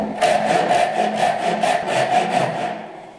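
Fine-toothed Japanese Ryoba pull saw cutting a wooden bridle joint by hand, about ten quick, even rhythmic strokes close up, each a rasping swish, easing off and stopping near the end.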